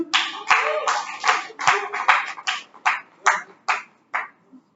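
Hands clap in a series of separate loud bursts at a Toastmasters installation ceremony, close and uneven at first, then thinning into slower spaced claps that fade out, with a little background murmur.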